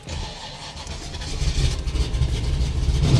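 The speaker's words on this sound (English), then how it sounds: "We're just going to start up this Trans Am" A 1973 Pontiac Firebird Trans Am starts up on a chilly, snowy day, its engine catching and settling into a loud, steady, rumbling idle that grows slightly stronger toward the end, with no talking.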